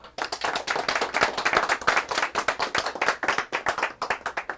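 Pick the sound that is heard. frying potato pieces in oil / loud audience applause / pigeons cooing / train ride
loud audience applause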